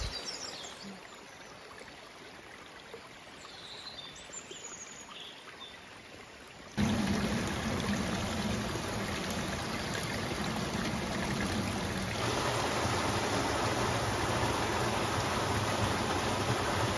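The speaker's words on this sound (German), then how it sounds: "Das Wasser töst gar nicht mehr so hier oben. Plätschert eher." A mountain stream babbles through a gorge in the Palatinate, with a soft trickling for several seconds before the rushing water grows suddenly louder and steadier, continuing alone without voices.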